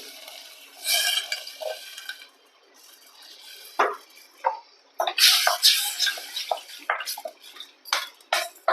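Half a cup of water poured into a pan for idli sambar and stirred in, with close clinks and scrapes of a utensil against the metal pan and splashy pouring between quieter gaps.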